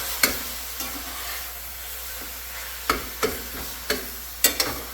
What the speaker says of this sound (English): She's starting to sizzle good now.